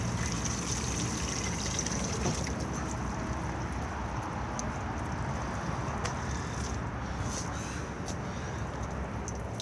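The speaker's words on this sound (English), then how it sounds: "So anything that goes down your plug holes goes into the holding tank and then is drained off by pulling this lever." Grey water draining from the holding tank of a Benimar Tessoro T483 motorhome, a constant rushing, hissing flow heard close and steady throughout, with nobody talking over it.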